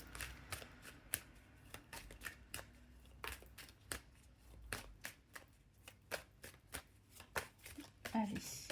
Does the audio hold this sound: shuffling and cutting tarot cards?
yes